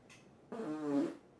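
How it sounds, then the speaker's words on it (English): A single short, buzzy fart lasting about half a second, close and fairly loud, with a faint breathy sound just before it. "I'm gonna fart."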